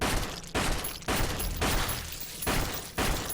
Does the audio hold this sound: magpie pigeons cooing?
no